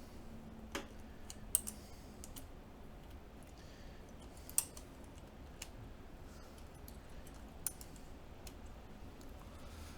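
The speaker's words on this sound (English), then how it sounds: "I'm just putting some keycaps on so that I can tell the distance of everything." Quiet, sparse plastic clicks and taps as keycaps are pressed onto a Zealio 60% mechanical keyboard kit, a few sharper snaps scattered irregularly over faint background hiss, with no voices.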